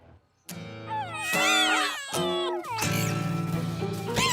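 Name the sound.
cartoon cats meowing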